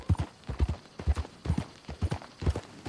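Horse hooves clip-clopping at a steady walking gait in Red Dead Redemption 2, even paired hoofbeats repeating close and clear with no talk over them.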